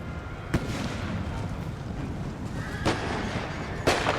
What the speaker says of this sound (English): Oh, they also get shot by the cannons, as you just observed.